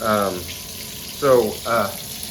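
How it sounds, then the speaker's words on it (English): A shower faucet runs water into a bathtub with a clogged drain. A steady close hiss of flowing water carries three short tonal, squealing bursts over it. "I'm running the water, and you notice it is pooling up in the bottom of the tub here"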